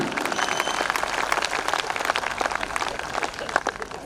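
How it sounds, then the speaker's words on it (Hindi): An audience at a Hindi comedy poetry show in Bhilwara breaks into steady applause, a thick crackle of many hands clapping throughout at moderate loudness. "तालियां कम रह गई आपकी"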